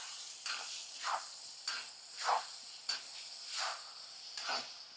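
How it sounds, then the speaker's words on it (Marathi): Ginger, garlic and green chilli paste frying in a hot tadka, a quiet soft sizzle broken by about eight rhythmic scraping strokes of a spoon stirring the pan; no voices. "अद्रक लसूण पेस्ट व्यवस्थित आपण कच्चापणा जाऊस्तोवर फ्राय करून घेऊ।"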